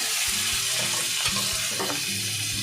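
Green chillies and garlic sizzle steadily in a hot pan of oil, a continuous close frying hiss with small crackles and an occasional stir, no voices over it.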